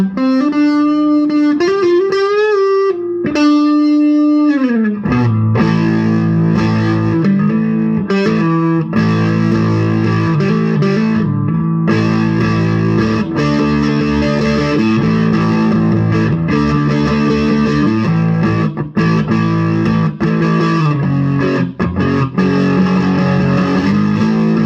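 A Gibson 1958 Les Paul Standard Reissue electric guitar played through heavy distortion, starting with quick bright picked notes, a brief pause, then sustained chords and riffs, loud and close with light effects.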